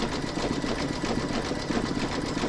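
An embroidery machine stitches an in-the-hoop Christmas coaster in gold thread, a steady, loud, fast mechanical whirr with even stitch pulses that runs continuously and stops abruptly at the end.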